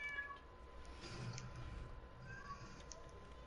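A pet cat meows faintly and intermittently indoors beneath steady background noise, with no clear talk.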